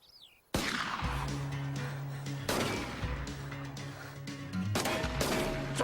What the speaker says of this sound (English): Someone's shooting up the bloater!